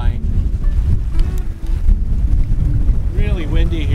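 Strong wind buffets the microphone in a steady low roar on a sailboat near Loreto and Isla Coronado, with a brief higher tonal sound near the end.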